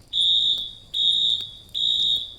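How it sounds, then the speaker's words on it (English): A fire alarm sounding in three loud, piercing high-pitched pulses with short gaps between them, alone and close. "Then the fire alarm went off."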